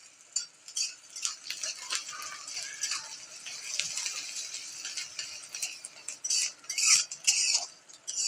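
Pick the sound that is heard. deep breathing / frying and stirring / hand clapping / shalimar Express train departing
frying and stirring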